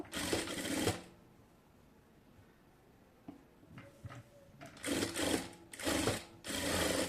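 A sewing machine stitching a baby frock, running in short bursts of rapid whirring stitches separated by quiet pauses, close by with no talk.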